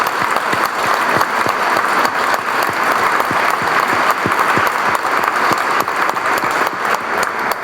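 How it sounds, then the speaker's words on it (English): Sustained applause from an audience at a women veterans appreciation event honoring Viviana Marcotte, a dense steady clatter of many hands that stays loud and even throughout without pause. "And can we all give Viviana a round of applause"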